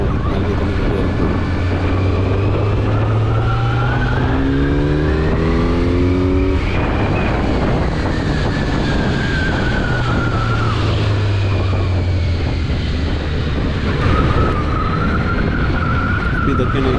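A Kawasaki Z900 motorcycle accelerating hard, its loud, close engine note climbing in pitch through successive gear changes before settling into a sustained high roar.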